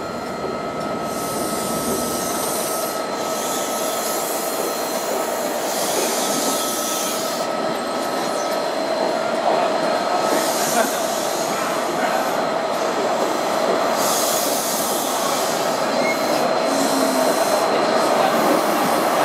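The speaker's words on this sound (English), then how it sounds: "Here is a rarity, platform 3 with a London bound Paddington train." London-bound Paddington passenger train at platform 3 of Cardiff Central station, a loud, steady rumble of rolling wagons with rhythmic wheel clatter and occasional squeal, continuous and close throughout.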